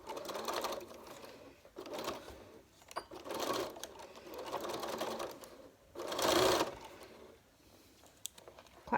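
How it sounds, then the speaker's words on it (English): Sewing machine stitching fabric for an over-edged or bound seam, running in several close bursts of rapid mechanical whirring with brief pauses as the fabric is fed through. "So you just feed that through and then follow it with your actual bit of sewing."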